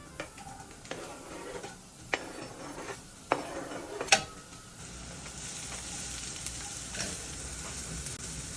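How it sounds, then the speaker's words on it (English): Diced yellow onion sizzles gently as it sautés in a pan, with occasional sharp clinks of a utensil stirring, steady and close, no voices. "I'm gonna dice up a yellow onion and just saute it for a little bit to get it soft."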